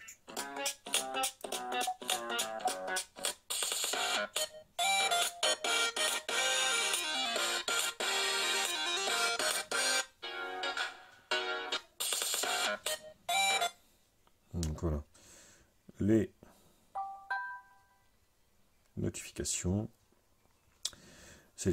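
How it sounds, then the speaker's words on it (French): A Samsung Galaxy A9 phone plays a series of short ringtone and alert melodies one after another, bright and electronic, with brief gaps and clicks between them, close and clear. "vous allez voir que c'est plutôt pas mal au niveau des sonneries"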